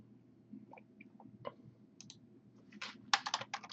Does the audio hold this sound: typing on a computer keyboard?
yes